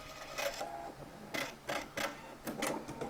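A sewing machine top stitching a collar or button placket: short, faint bursts of mechanical clicking and whirring that start and stop in an uneven rhythm, heard close up in a quiet room.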